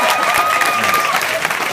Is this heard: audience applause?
yes